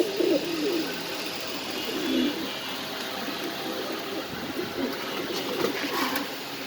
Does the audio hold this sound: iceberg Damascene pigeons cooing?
yes